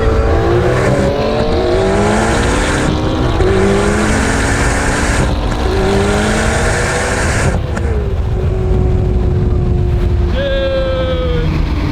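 A 1064 hp C8 Corvette ZR1 and an 800 hp AWD G80 M3 roar off the line in a no-prep drag race and scream upward through repeated gear changes, the revs climbing, dropping and climbing again, loud and close.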